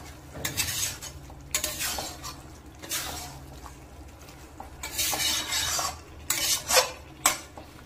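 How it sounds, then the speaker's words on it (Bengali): Chicken cooked with sour yogurt is stirred in a pan over low heat, with repeated scraping and clinking of a utensil against the pan over a soft, low sizzle. "এবার টক দইটা দিয়ে ভালো করে কম আঁচেই নাড়তে হবে"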